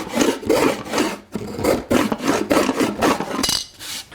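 A box scraper is pushed across wood, taking shavings in repeated rasping scrapes. About eight strokes come in a steady rhythm, close and clear, with no talk.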